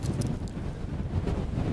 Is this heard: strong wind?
yes